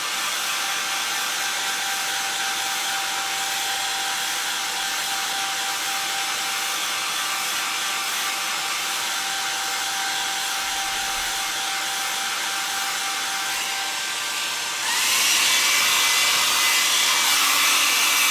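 Hair dryer on a really hot setting drying a model, a loud, steady broadband blowing roar held throughout, shifting to a slightly harsher, louder tone near the end, with no talking.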